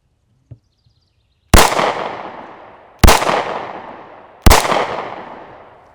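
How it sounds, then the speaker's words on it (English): Pistol fitted with a red dot sight fires three loud, close single shots about 1.5 seconds apart, each a sharp crack with a decaying tail, after a faint click. "I'm going to shoot a few, try to be accurate, and then I'm going to rapid fire."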